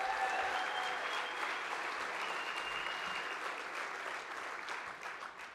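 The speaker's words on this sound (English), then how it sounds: "A round of applause for the band, who was also great tonight." Steady audience applause for the band at a credit union honor awards gala, a dense wash of clapping that fades slightly toward the end.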